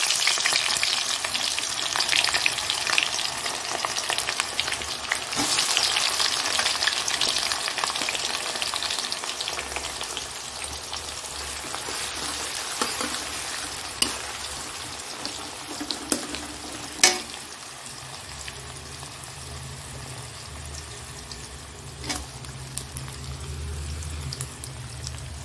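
Onion frying in a pan for vegetable fried rice, a loud continuous sizzle with occasional sharp clicks and scrapes of stirring throughout, no voices.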